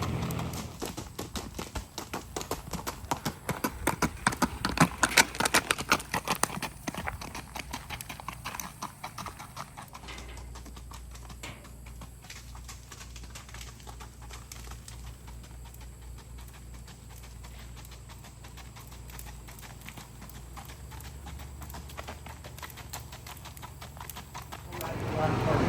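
A horse is led on hard ground for a farrier, its hooves clip-clopping in a steady rhythmic walk, louder early on then fading as it moves off, with people talking nearby.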